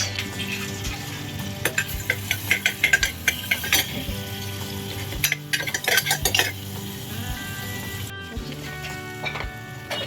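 Onions frying in butter inside a pressure cooker, a steady sizzle with repeated clinks and scrapes of a spoon stirring against the metal pot, close and fairly loud with no voices.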